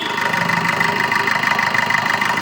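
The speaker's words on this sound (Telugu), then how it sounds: "డీజిల్ ఇంజన్ అండి ఇది" A 2018 Maruti Brezza ZDi diesel engine idles up close, a loud, even, rhythmic clatter with no voices.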